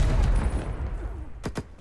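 Gunfire in Black Ops Cold War, a dense rumble of shots through the first stretch, then two sharp, loud cracks near the end with no one speaking.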